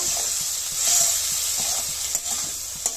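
Onion, green chilli and coriander paste sautéing in a pan, giving a steady close sizzle with soft scraping stirs and a few light clinks against the pan throughout.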